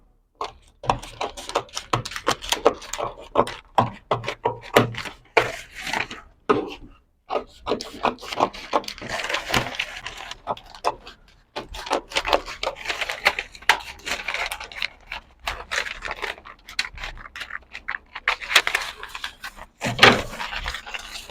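Scissors cut out fabric flare pattern pieces on a table, producing a long run of rhythmic snipping, rubbing and scraping strokes, close and fairly loud, with brief pauses and no talking.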